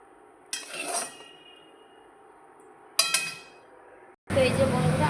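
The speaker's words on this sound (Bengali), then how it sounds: "কড়াইটা আমি একটু ধুয়ে নিই" A kadai washed after frying: two separate clanks of the metal pan, close and sharp, followed by a steady loud rush of running water near the end.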